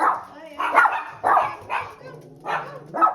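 Dogs near a home in Calgary, Canada give several short, close barks and yips in a loose irregular rhythm, with a person talking around them.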